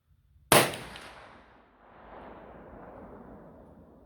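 A single loud gunshot from a ULR 454 Casull fired at an outdoor range toward a target 25 yards away, a sharp close crack followed by a decaying echo and faint ambient noise.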